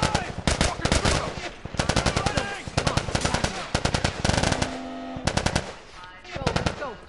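Gunfire in The Last of Us: loud, rapid automatic bursts in repeated volleys, close and dense, with brief gaps between bursts and shouted voices mixed in.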